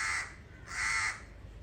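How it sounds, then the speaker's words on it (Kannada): Two harsh, drawn-out caws from a crow, fairly close, separated by a short pause against a quiet background. "ಇವತ್ತು ಕಾಗೆ ಅಷ್ಟೇ ಕೇಳ್ತೀನಿ"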